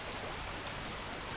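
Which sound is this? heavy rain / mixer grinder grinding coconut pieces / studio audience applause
heavy rain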